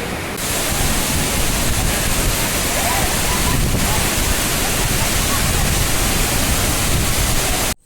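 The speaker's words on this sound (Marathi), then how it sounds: "धबधबा बघा कसा जबरदस्त आहे कसा फ्लोने पडतोय बघा पाणी" A large waterfall in the Konkan region, heard from just below where the water falls, produces a loud, continuous broadband roar that holds steady for several seconds and then cuts off abruptly.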